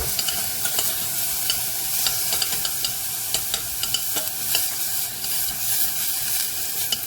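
Garlic sizzles in a soup pot while a utensil stirs it, with soft scraping and clicks over a steady frying hiss, close and fairly quiet.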